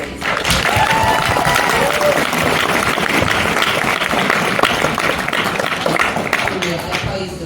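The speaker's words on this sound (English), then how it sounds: "I want you to actually give a round of applause for them" Loud, sustained applause from an audience at a college senior night gathering, dense clapping and crowd noise filling the whole stretch at a steady level, with voices mixed in.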